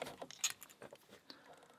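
Padlock keys jangle on a ring for a Stealth Padlock Anchor Lås Grade 4, giving bright, close metallic clinks in several quick bursts, the loudest near the middle, with no one speaking.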